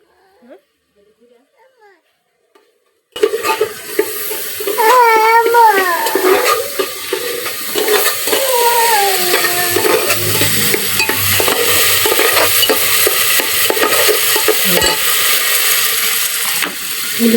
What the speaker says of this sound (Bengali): আর এদিকে মশলা কষাচ্ছি।